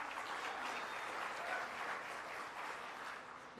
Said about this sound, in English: Let's give him another round of applause for using Cherokee.